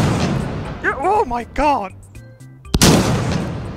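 A 12 gauge shotgun fires in the H3VR virtual reality game, one sharp loud blast after an excited shout, with a short ringing tail.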